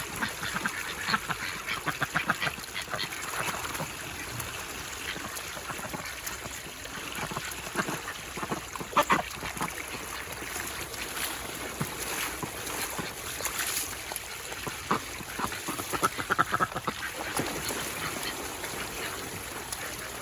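Ducks quack in a steady, busy chatter near water at a fence-side enclosure, with scattered sharper calls rising above a continuous outdoor wash of sound.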